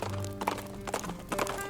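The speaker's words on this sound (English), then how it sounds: "we heard the galloping of a horse in the distance" Hooves of a horse galloping in the distance beat in quick clip-clop clusters as a sound effect, moderately loud against a low musical hum.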